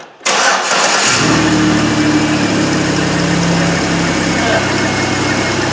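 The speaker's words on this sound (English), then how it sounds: "Typical dual muffler Impala. Both mufflers rotted off it from the sound of it." A Chevy Impala with both dual mufflers rotted off cranks and fires, then settles into a loud, raspy, rumbling idle close by, with a brief rev near the start.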